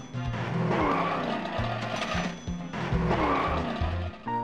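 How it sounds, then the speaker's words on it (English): Rockette car from the Amiga CD32 game Chuck Rock 2 drives in a burst of loud synthetic engine tones and skidding tire squeals, a repeating stepped pattern that briefly breaks and restarts. "Everyone wanted to own a Rockette car"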